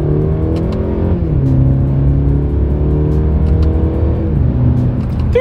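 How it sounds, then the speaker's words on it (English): A 2024 Mercedes-Benz E350 accelerating hard through paddle-shifted gears, the engine note climbing in pitch, then dropping at each upshift before rising again, loud and steady from inside the car. "let's see how quickly we can get our new 2024 E350 here up to speed."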